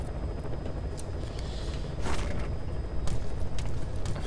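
A steady, loud, broadband rumble of a helicopter flying in Metal Gear Solid V: The Phantom Pain, continuous throughout with a slight swell partway through and no talk.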